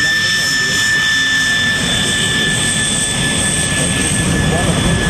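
A de Havilland Vampire jet fighter roars loudly and steadily overhead at an air show, its sustained engine whine and broadband rumble filling the air without pause.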